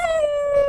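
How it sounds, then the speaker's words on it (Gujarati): A dog at a rural farmstead lets out a single drawn-out howl, loud and close, with a steady tone that wavers only slightly. "તરત ગાડી આવે તરત કૂતરા ભોંકવાનું ચાલુ"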